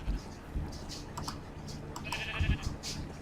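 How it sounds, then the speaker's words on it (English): Sheep bleating inside a video game, a few short bleats against light keyboard-like clicking, moderately quiet and without speech. "I caught me some sheep and brought them over here."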